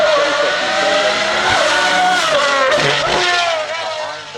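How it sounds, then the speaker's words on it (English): Pagani Huayra R hypercar with a naturally aspirated V12, driven flat out: a loud, close, high-pitched engine wail with rising and shifting revs across the whole stretch, with brief tire noise near the end. "this is the most extreme Pagani Hypercar ever made, naturally aspirated, V12 engine"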